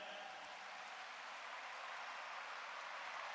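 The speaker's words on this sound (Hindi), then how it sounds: "जोरदार तालियों द्वारा अभिनंदन" Applause from an audience welcoming a guest at a United Kingdom session, a faint, distant, continuous wash of many hands clapping that stays even throughout.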